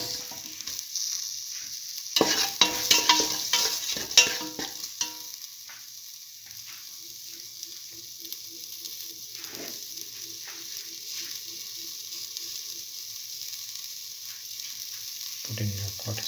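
Split mung beans and okra stirred in a pan, a close burst of scraping and sizzling strokes early on that settles into a quieter steady sizzle with occasional light stirs.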